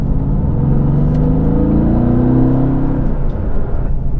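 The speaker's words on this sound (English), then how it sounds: "Which immediately makes this car sound like some sort of big block muscle car" A Mercedes-AMG GT S with its 4.0 V8 and exhaust valves open rumbles loud and close, its deep burbling engine note rising in pitch over a few seconds before settling, with no talking.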